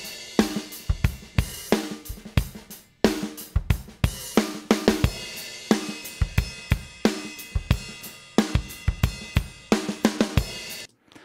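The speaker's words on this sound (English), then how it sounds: "I have a stereo drum track, and I have gone through and I have added some fills and some variation on the track" A stereo drum track with fills and variations plays back in Pro Tools, crisp kick and snare hits in a steady groove with busier fill bursts, clear and unaccompanied.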